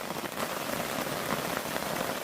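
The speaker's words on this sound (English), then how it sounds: "the rain's coming down a lot harder now" Heavy rain drums hard on a camping tarp strung over a hammock in windy weather, a dense, steady patter close overhead with no voices.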